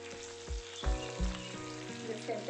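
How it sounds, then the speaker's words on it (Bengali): Fish frying in a pan makes a bright, close sizzle, broken by several soft thuds as the pieces are flipped over one after another. "এবার মাছগুলো উল্টে দিচ্ছি।"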